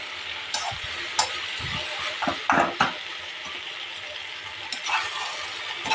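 Gongura leaves and other ingredients for gongura pachadi fry in a pan with a steady close sizzle, broken by a few sharp clicks and scrapes of stirring.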